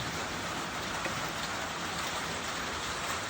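Steady rain falls outdoors during a mower deck belt repair, a dense, even hiss of drops hitting surfaces, loud and unbroken throughout with no voices.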